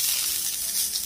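Fish frying in hot oil, a steady close crackling sizzle with no voices.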